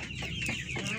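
A heavy Plymouth Rock heritage rooster gives a few short throaty clucks up close, brief and alone without talk.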